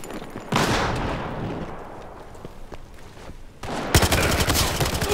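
Sustained automatic gunfire in the shooter Battlefield Hardline, loud and close, rattling on for several seconds, easing off briefly, then erupting again with sharper, heavier bursts.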